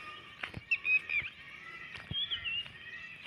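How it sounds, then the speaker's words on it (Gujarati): A few faint, nasal honking peacock calls ring out in short bursts in a forest, interrupted by light knocks and rustling. "આ મોરનો અવાજ તમે સાંભળી શકો છો"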